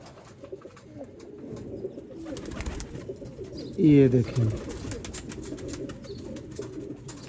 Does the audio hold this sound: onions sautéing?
no